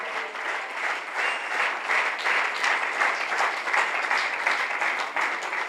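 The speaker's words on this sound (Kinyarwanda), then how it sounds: "Amashyi menshi ku Mwami Yesu Kristo." Church congregation applauding during a sermon, a dense, steady wash of many hands clapping at close range, sustained and even for several seconds with no voices over it.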